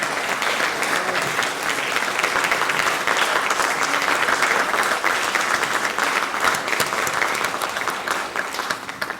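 Dense, steady applause from a large audience clapping for students standing up at an evening gathering, loud and continuous throughout with no pause.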